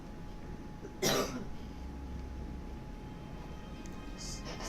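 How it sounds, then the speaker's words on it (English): A single harsh cough bursts out near the start, close and loud, then fades into low steady background noise with no talking. "coughed and spit on me"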